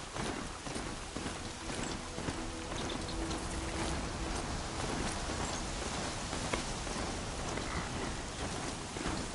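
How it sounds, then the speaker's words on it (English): Steady, dense rainfall in a video game hisses continuously on surfaces at a fairly even level throughout, with scattered droplet patter and no talking. "Rain's here."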